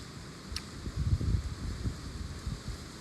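Outdoor wind gusts buffet the microphone as a low, rumbling roar that swells and fades over a few seconds, with no voices.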